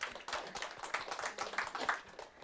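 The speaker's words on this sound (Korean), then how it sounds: "박수 보내주세요." A small audience at a live Korean book-forum lecture claps briefly, a short, soft patter of hands for a couple of seconds, fairly close.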